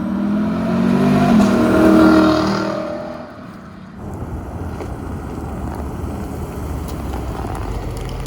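A Lexus LC 500 engine revs loudly with a rising harmonic roar for about three seconds, then drops to a steady low rumble mixed with wind noise.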